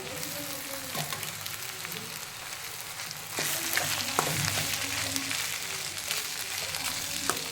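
Soaked poha (flattened rice) tossed into a hot tempering in a pan, a soft continuous sizzle that swells louder midway, with scattered clinks and scrapes of stirring, no talking.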